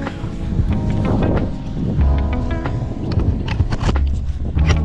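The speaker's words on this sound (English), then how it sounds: "it's been windy, hasn't it?" Gusty wind buffets the microphone in a loud, low rumble, with scattered knocks and clatter in the background.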